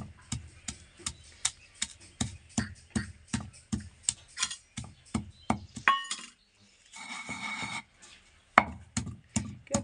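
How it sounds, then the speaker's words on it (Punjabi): Chillies being pounded with a wooden mortar and pestle (kundi sota), a steady rhythm of close, sharp wooden knocks with a short pause and scraping midway before the regular thumping resumes. "ਹੁਣ ਇਹਨਾਂ ਨੂੰ ਮਿਰਚਾਂ ਨੂੰ ਆਪਾਂ ਬਰੀਕ ਕਰ ਲਵਾਂਗੇ, ਚੰਗੀ ਤਰ੍ਹਾਂ ਕੁੱਟ ਲਵਾਂਗੇ"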